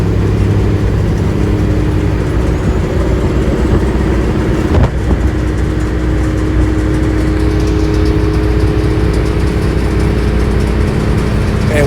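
A Freightliner Classic truck with a rebuilt engine and Dyno Flex exhaust rumbles steadily at low pitch, loud and close, with one brief knock partway through and no voices.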